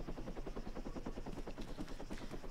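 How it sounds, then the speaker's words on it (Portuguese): Helicopter in ArmA 3, with rotor blades chopping in a fast, steady pulse, fairly faint and continuous with nothing else over it. "Ah, vamos de helicóptero, cara."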